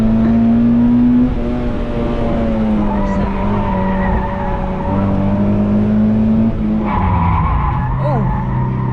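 Car tires squeal and skid under hard downhill braking, a loud sustained tonal screech close up with engine noise beneath and voices talking over it.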